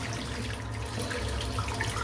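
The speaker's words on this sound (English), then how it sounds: "I'm just going to rinse off the brush." Water runs steadily from a tap to rinse a shaving brush. The flow is quiet and even, a soft continuous splash with no voices.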